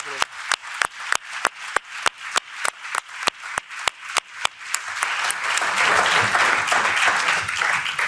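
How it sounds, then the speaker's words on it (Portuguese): A room full of people in a parliament forum applauds, starting with steady single claps that swell into dense, continuous clapping. "lo primero es un aplauso para todos vosotros."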